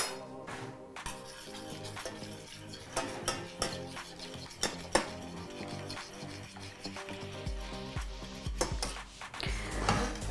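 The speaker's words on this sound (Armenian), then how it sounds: "Մի թեթև խառնում եմ։" A spoon lightly stirring saffron into melted butter in a pan while making cheese knafeh, with scraping, clinks against the pan and a faint sizzle, close up and without voices.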